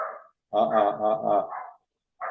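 A dog barks in a short, near run of voiced, harmonic calls lasting about a second, with a brief trailing bark after a pause.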